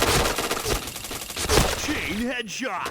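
Bursts of APC9 submachine gun fire in a Point Blank first-person shooter game, rapid dense shots crowding the first half, then quieter with a short in-game voice or effect sweep near the end.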